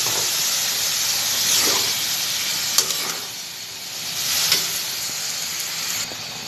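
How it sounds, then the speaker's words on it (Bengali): Vegetable bhaji hisses and sizzles steadily in a pan after a little water goes in, with steam rising and a couple of sharper spits standing out; close and continuous, no voices. "আমার ভাজি এবার সামান্য জল পানি দেব।"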